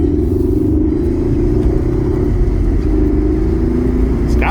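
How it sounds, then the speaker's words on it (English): A 2013 Mercedes-Benz C250 engine hums and rumbles steadily from inside the cabin while driving, a loud, even drone with road rumble underneath. "I just don't like the sound of that engine. It sounds terrible."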